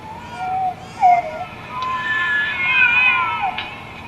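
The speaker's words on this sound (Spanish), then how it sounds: "las ondas suenan como el llanto de 5 bebés al mismo tiempo" Processed horror-film audio resembling several babies wailing at once carries overlapping high, wavering cries that rise and fall continuously over a noisy bed.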